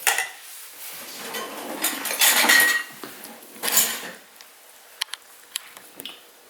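A metal spoon scrapes and clinks inside a jar of thick sourdough starter, with uneven bursts of scraping followed by a few sharp, separate taps near the end, close and fairly quiet.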